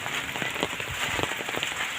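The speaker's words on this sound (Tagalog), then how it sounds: "Kusog-kusog ang ulan." Steady heavy rain pattering densely on a surface, a continuous close wash of drops with no voices.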